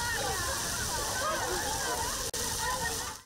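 A park fountain in Nizhnekamsk splashes and sloshes steadily, with water streaming onto paving stones and children playing around it; a constant wash of spray fills the scene at moderate level, with a brief dip near the end.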